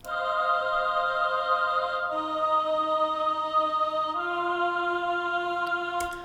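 Orchestral choir sample from Logic Pro X's classical ensemble, sustained synthetic voices holding three chords in turn, each lasting about two seconds, clean and alone.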